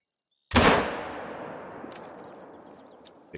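A single loud rifle shot from a 7 mag in the hunting game Hunter: Call of the Wild on an ibex hunt in Spain, a sudden sharp crack followed by a long rolling echo that slowly fades.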